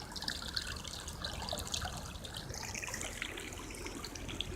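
Water from the return inlet of a backyard pool with a sand filter and saltwater system trickles and burbles steadily, a soft continuous splashing wash with no voices.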